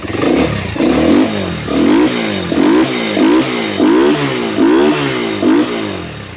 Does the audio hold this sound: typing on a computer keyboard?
no